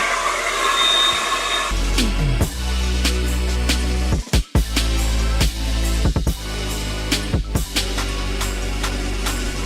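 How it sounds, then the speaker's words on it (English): A hair dryer blows with a steady loud whir, its pitch shifting as settings change, with several sharp clicks and brief interruptions. "since I have a cooling section in my hair dryer"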